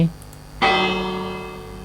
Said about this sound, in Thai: ผมจะทำการเอาระฆังออกมา แล้วก็ลองตีระฆังดูว่า NPC จะวิ่งมารวมตัวกันตรงนี้ไหม